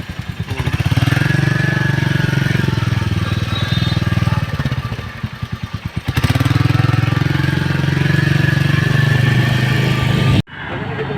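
A motorcycle setting off on a road trip from Nalbari toward Meghalaya, a loud close engine drone with rhythmic pulsing, dipping briefly around the middle before surging again, then cutting off near the end.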